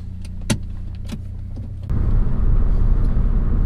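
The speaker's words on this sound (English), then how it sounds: "we're gonna go ahead and go for a little drive, and we'll see exactly how this new filter works" A Honda Accord fitted with a new turbo air filter pulls away: a steady cabin hum with a couple of sharp clicks, then a louder, broader engine and road rumble swells in and holds.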